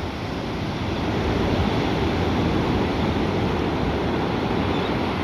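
Choppy sea waves wash onto a fishing shore where boats head out, making a steady, loud, broadband roar with no distinct breaks.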